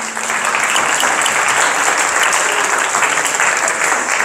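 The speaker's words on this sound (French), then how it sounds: "Je pense qu'on peut les applaudir pour le travail qu'ils ont accompli pour cette première." Steady, dense applause from a conference audience in Ittre, Belgium, clapping for the organisers. It fills the whole stretch at an even, fairly loud level, with no voices standing out.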